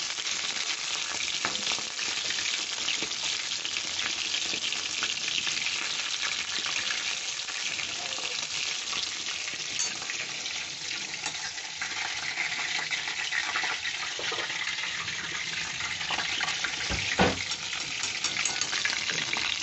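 Prawn fritters fry in a kadai of hot oil, giving a long, steady, crackling sizzle up close, with an occasional faint clink of a utensil.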